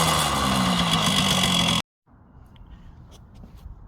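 Kawasaki KD80 motorcycle engine running steadily after a kick start, a loud, close, buzzing two-stroke drone that cuts off abruptly, followed by quieter low background noise.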